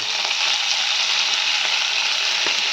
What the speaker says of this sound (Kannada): ಅದಕ್ಕೆ ಮೆಂತ್ಯ ಸೊಪ್ಪನ್ನ ಹಾಕ್ತೀನಿ ಒಗ್ಗರಣೆಗೆ.